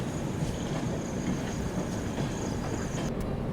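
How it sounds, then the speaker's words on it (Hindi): The Magadh Express rolls toward New Delhi past a moving passenger train near Prayagraj, a dense, steady rumble of wheels and carriages with a faint high whine and clatter, loud and continuous with no talking. "ये मेरे ख्याल से टाउन वाली मगध एक्सप्रेस है जो कि नई दिल्ली की तरफ जा रही है"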